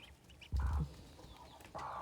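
Chinese ducks on a farm give a couple of short, close, nasal quacks separated by a brief quiet pause.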